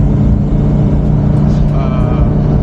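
A truck engine idles steadily and loudly close by after being started on a rainy day, with a low rumbling drone throughout and someone talking over it.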